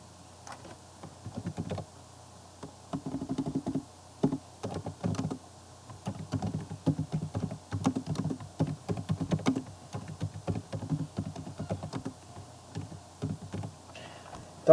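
Fairly quiet computer keyboard typing runs as a steady stream of rapid, light keystroke clicks with small pauses, close to the microphone in a quiet room.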